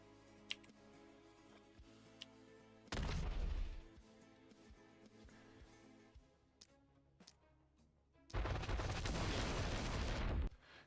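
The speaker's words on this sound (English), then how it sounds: "Okay, have a gunshot." Gunfire in the video game The Last Spell comes in two loud noisy bursts, the second one longer, over a steady game music backdrop.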